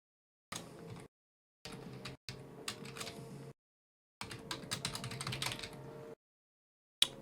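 Code being typed on a computer keyboard during indie game development, several short bursts of quick, close key clicks separated by silent gaps, ending with a single sharp tap.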